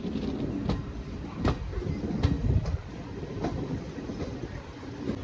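The Thiruvananthapuram–Kozhikode Jan Shatabdi Express rolls along the rails near Shoranur, heard from on board as a steady rumble with periodic clickety-clack joint strikes every second or so.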